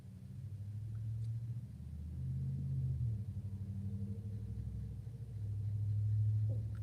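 Cars drive past on a road, a steady low rumble of tyres and engines swelling and fading as vehicles pass nearby, continuous throughout with no talk.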